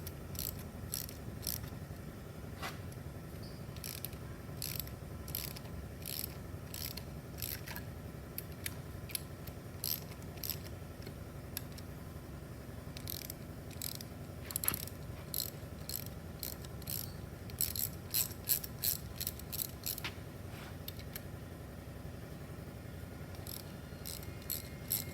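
Bolts on a GE Wind 30 NM pitch motor housing, model FP9-4001, loosened in a cross pattern by a ratcheting tool, giving steady rapid clicking over a constant low hum, close but fairly faint, with no talking.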